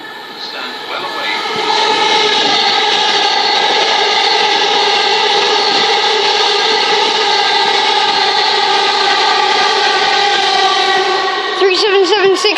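A Southern Class 377 electric train arrives at South Croydon station, a loud, sustained whining and rumbling close by with steady tonal hum, building over the first seconds and holding without speech.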